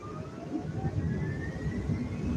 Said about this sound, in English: Go ahead and lift off. Full throttle.